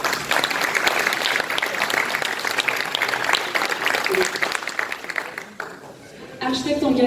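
Audience applause welcoming a speaker at a talk on eco-material building renovation, a dense steady clapping that runs loud for about five seconds, dips briefly, then resumes.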